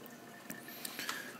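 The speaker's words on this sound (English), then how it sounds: "You can hear it going through the filter right now." Brewed coffee drips and trickles through a paper filter, a soft, quiet patter of a few distinct drops over a faint continuous flow, heard close up without talk.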